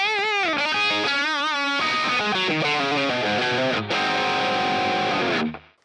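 An electric guitar through a tube screamer overdrive on a NUX MG-30 multi-effects processor plays a gritty, sustained melodic riff with bends and held notes, loud and alone, fading at the end.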